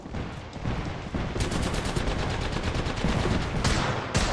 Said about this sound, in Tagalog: Airstrike ko ya. Cluster's firing.